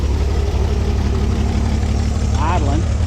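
A 1956 Chevy 3600 flatbed farm truck engine with a freshly cleaned one-barrel Rochester carburetor idles steadily up close, a low even rumble throughout, with a brief voice-like sound near the end.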